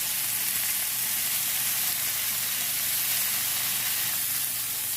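Steak tips sizzle in a hot cast iron pan with a steady, close, continuous hiss that holds evenly throughout, with no talking.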